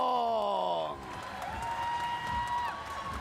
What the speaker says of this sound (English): The crowd go wild here at Town TV studio for the superstar Ricky Saitong